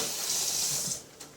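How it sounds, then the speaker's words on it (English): A kitchen tap runs steadily while a knife is rinsed under it, a close hissing stream that stops after about a second, followed by a faint clink. "Rinse my knife."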